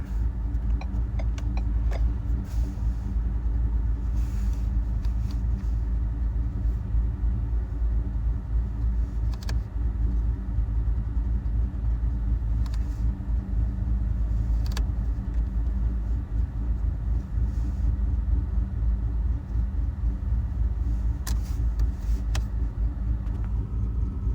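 A car's steady low rumble continues throughout while driving, a constant deep drone with occasional faint knocks and clicks, no talking.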